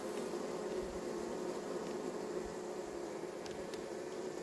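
A mass of honeybees carrying pollen hums steadily and continuously around the hive, a dense even drone with no pauses and no talking.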